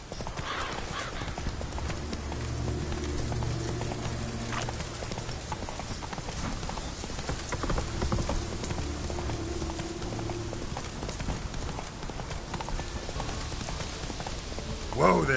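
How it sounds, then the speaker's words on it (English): A horse gallops in The Witcher with a rapid, continuous clip-clop of hooves over light rain, fairly close and steady, ending with a brief louder burst. "Whoa there, Roach."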